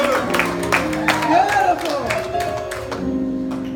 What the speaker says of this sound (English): Let's give 50 and Star a round of applause.